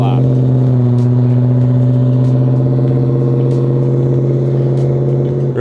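A deep, throaty 1970 Dodge Charger 500 engine idles loudly and steadily up close, a continuous heavy rumble with faint clicks and clatter over it.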